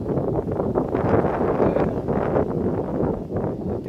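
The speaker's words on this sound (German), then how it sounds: "Jetzt ist ein bisschen windig." Steady, broad rumbling wind buffeting the microphone, continuous and fairly loud throughout with gusty fluctuations.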